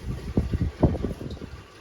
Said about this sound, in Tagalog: Malakas ang hangin ka Gmar eh.